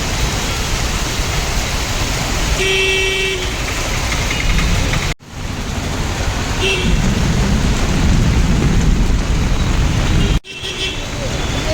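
Heavy rain pours down in Guruvayur, near the roads behind the temple, with passing vehicles on flooded streets. It makes a dense, steady hiss throughout, broken by two brief drops, with engine rumble low underneath.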